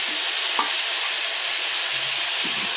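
Onions fry in a pan alongside potatoes and ridge gourd, giving a steady, close sizzle throughout with a few faint clicks of a utensil.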